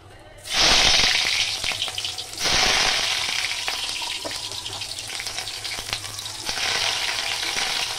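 Sliced onions drop into hot oil with a sudden loud hiss, and a second burst of sizzling follows a couple of seconds later. Steady close frying continues with stirring and spattering throughout, and no voices are heard.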